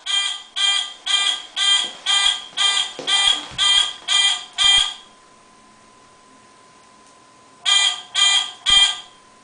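A fischertechnik robot kit's electronic sensor buzzer beeps in a rapid run of about ten pulses, pauses with a faint hum, then sounds three more times, loud and close.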